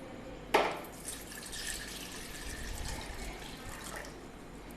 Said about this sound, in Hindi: पहले हम ये पानी लेंगे।